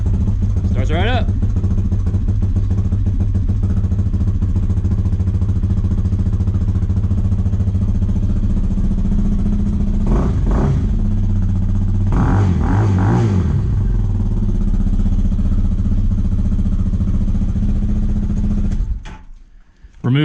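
Hawk DLX dual sport motorcycle with the exhaust baffle removed idles steadily and close, its loud thumping exhaust briefly swelling with a couple of throttle blips before cutting off near the end.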